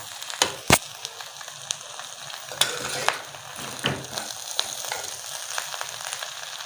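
Handi biryani being stirred and mixed in a pot, with sharp scraping clacks of a spoon against the vessel and soft rustling of rice between them, close and fairly loud, no talk.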